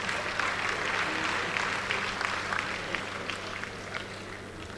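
An audience at a stand-up comedy show claps in a steady, moderate patter of applause that continues evenly for several seconds at a middling distance.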